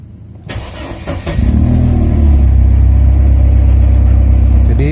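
A Mercedes-Benz W202 engine cranks with a few starter whirs, catches, and settles into a steady, close, loud idle with no talking over it.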